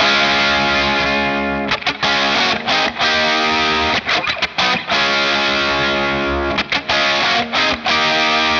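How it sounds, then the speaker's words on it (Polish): Heavily distorted electric guitar dialed in for the 1978 brown sound with plate reverb, playing loud sustained riffs with brief choppy gaps, upfront and continuous without any voice. "Dlatego, żeby to odzwierciedlić, wykorzystuję plate reverb."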